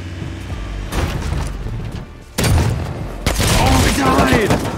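Gunfire in the survival game Rust: loud bursts of shots and booms in two heavy stretches, with a voice speaking between and over them.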